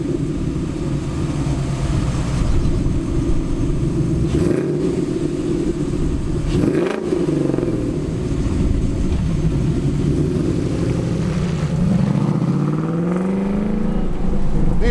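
A classic Ford Bronco fitted with a modern 5.0 Coyote V8 and a Magnaflow exhaust drones steadily and loudly, with a brief dip and then a rising rev toward the end and no talking.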